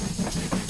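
Steam locomotive on a branch line in Train Simulator 2022, a steady hiss with rhythmic chuffing pulses repeating under a continuous rolling rumble, close and fairly loud.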